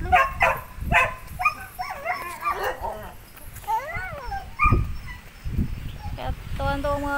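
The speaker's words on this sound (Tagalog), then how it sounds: "Uy, dito may aso." A dog barks in short, sharp bursts outdoors on a quiet rural road, with fowl calls mixed in and people chatting nearby.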